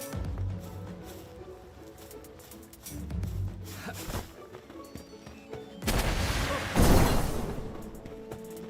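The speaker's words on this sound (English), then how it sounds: "Oh damn, that explosion. That's huge." A huge explosion in the video game Palworld, on Feybreak Island, erupts as a loud crashing burst with crackling, gunfire-like bangs, following quieter clatter.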